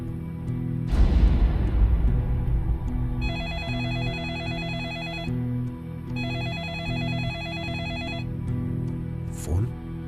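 A telephone rings in a tense animated horror scene, its electronic bell sounding in two long bursts over a low, droning background score, loud and close.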